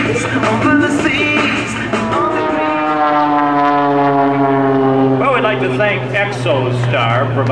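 An Extra 300L propeller aircraft flies aerobatics at the Andrews AFB airshow. Its engine and propeller give a loud, buzzing drone whose pitch climbs and falls as the plane maneuvers through a spin.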